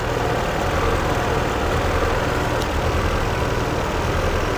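A Peugeot 408 engine idles unevenly up close, a steady loud mechanical hum with a faintly wavering, lumpy rhythm running throughout, with no talking.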